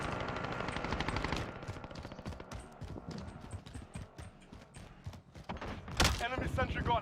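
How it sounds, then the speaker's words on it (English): Sentry gun gunfire in Call of Duty Cold War, with rapid bursts of shots at the start followed by scattered quieter shots and game sounds, and a loud sharp burst near the end. "Enemy sentry gun active."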